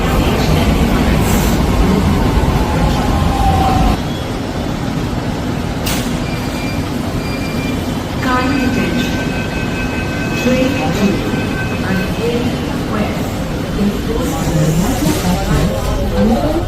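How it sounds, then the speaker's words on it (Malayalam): A metro train pulls into a station, its rumble and rail noise rising with brake hiss and squeal, while people talk nearby throughout. "ട്രെയിൻ വന്നിട്ടുണ്ട്"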